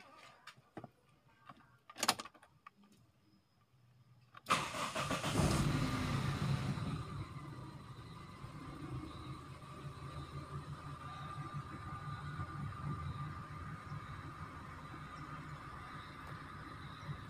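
A Toyota Corolla EFI car engine cranks after a few clicks, catches with a loud start, then settles into a steady idle, close by and without talk.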